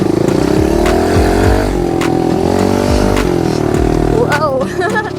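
A small dirt bike engine, either a Rawrr Mantis Mini R or a Kawasaki KLX110R, revs loudly and close with a buzzy, rising and falling drone, while a rider's voice occasionally comes through over it.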